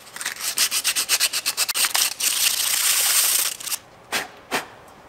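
Strokes of 150-grit sandpaper rasp against a brake caliper during a rear brake job on a 2011 Buick Enclave: quick rhythmic scrubbing passes blur into a steady, close grind, then two short separate swipes.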